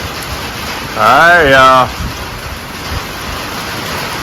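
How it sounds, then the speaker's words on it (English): Rain falls steadily as a constant broadband hiss through the whole stretch, while someone speaks briefly over it in the middle. "This thing's starting to rain a little harder."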